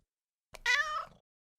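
A cat gives a single clear, drawn-out meow at close range in an otherwise quiet setting.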